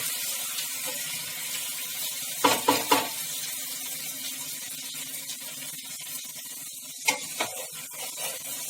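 Spices being stirred in a frying pan while cooking Mughlai chicken, a soft ongoing sizzle with a few sharper scraping clatters of the spoon against the pan.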